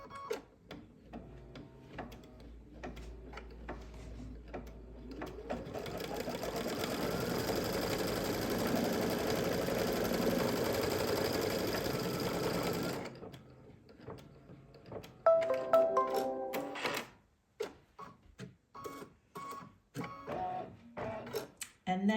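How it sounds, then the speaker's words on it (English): Embroidery sewing machine stitching a top piece of fabric down, a rapid steady mechanical whir and clatter running for several seconds, then stopping, followed by handling clicks and bumps. "And now this is going to stitch that top piece of fabric down."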